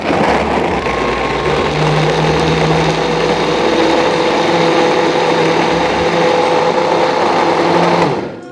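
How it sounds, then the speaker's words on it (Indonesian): An electric blender whirs steadily and loudly for about eight seconds, blending an herbal remedy with water, then winds down abruptly at the end. "kita pegangi, kita blender dulu"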